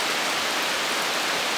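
Steady rain falls on a porch in rainy Allegany, a dense, even hiss of drops that fills the whole stretch with no voices.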